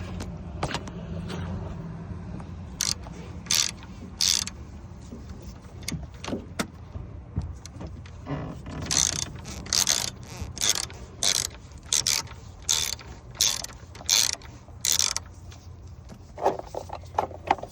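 Ratchet wrench tightening a fitting during a battery change on a 2019 GMC Acadia Denali 2WD: close, crisp pawl clicks arrive in short rhythmic bursts, quickening into a steady run of clicks near the end, with no talking.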